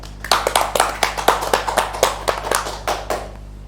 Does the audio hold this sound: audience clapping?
yes